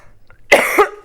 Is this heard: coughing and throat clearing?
yes